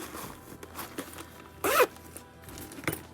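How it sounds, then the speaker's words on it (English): A short, sharp zip rasps once amid quiet handling noises and faint rustles, followed later by a small click. "You have a front zipper"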